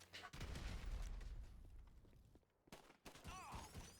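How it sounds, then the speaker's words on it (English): Compact grenade launcher in GTA Online firing a grenade at a wall, heavy booming blasts and scattered gunfire, loud and dense up front, then a brief quiet gap before more shots. "just use the compact grenade launcher, fire a grenade at that wall"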